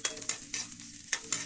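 Garlic and onion being sautéed in a pan for miso sinigang, a soft frying sizzle with repeated spoon-stirring scrapes, close and fairly quiet, no talking.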